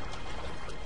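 A character in Assassin's Creed 2 drops into water, giving a single short, washy splash that fills the moment on its own.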